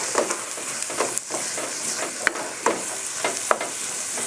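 A spoon stirs vegetable soup with freshly added carrots in a pot, giving soft repeated scrapes every second or so over a steady sizzling hiss, close and without talk.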